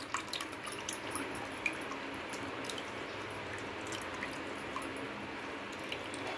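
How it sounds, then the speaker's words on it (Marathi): Soaked kokum liquid trickles and drips faintly as it is strained into coconut milk for solkadi, a soft, continuous wet pouring with small splashes and no voices. "कोकम भिजत घातलेला आपण नारळाच्या रसामध्ये गाळून घेणार आहे"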